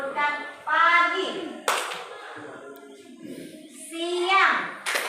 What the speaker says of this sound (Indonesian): Pagi tepuk tangan sekali.